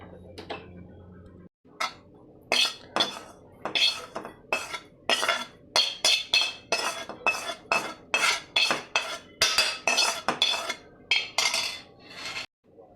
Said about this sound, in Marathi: आता आपण याला एका वाटक्यात काढून घ्यायचं आहे